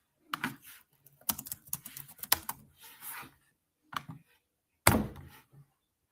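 Bursts of typing on a computer keyboard give close, crisp clusters of key clicks separated by short pauses, ending with one louder thunk.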